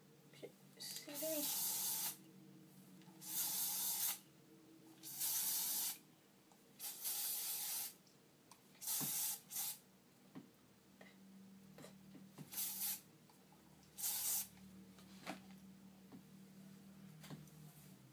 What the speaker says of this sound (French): J'ai appliqué ça, c'est de L'Oréal Paris Studio Silk and Gloss Volume Spray